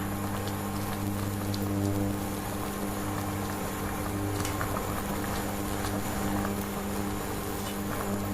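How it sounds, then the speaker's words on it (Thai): Salmon heads simmering in soy sauce broth in a pot, giving off a steady, continuous bubbling hiss with no voices. "เมื่อเริ่มเดือดนะคะ หัวปลาต้มของเราเนี่ย ก็จะมีฟองให้ช้อนฟองออกค่ะ"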